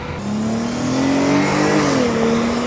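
A car drives past at close range, its engine note loud and steady, then rising in pitch as it accelerates, with no voices over it.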